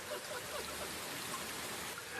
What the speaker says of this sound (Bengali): বৃষ্টির শব্দ আরো জোর হতে থাকে।